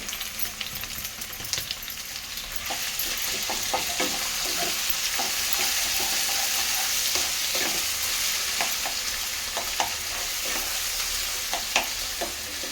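Boiled bottle gourd and prawns fry together in a pan, a dense continuous sizzle broken by repeated clinks and scrapes of a spatula on metal, close and fairly loud throughout.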